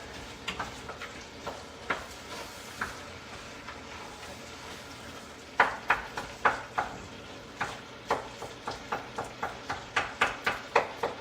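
Sausage meat cooks in olive oil in a pan, a faint low sizzle under repeated sharp clicks and taps of a utensil against the pan, growing more regular toward the end, with no talk.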